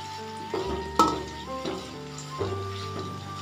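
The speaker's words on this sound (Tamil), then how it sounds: "நம்ம இந்த எண்ணெயை நல்லா வந்து ஸ்டிர் பண்ணி விடலாம்." A homemade hair oil made with coconut oil is stirred in a pan. A utensil gives a few distinct scraping knocks against the metal over a faint simmer, with steady tonal background music underneath.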